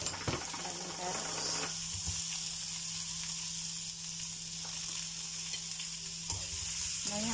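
Carrots sautéing in a pot for a creamy potato carrot soup, a steady loud sizzle with stirring scrapes throughout and a faint voice in the background.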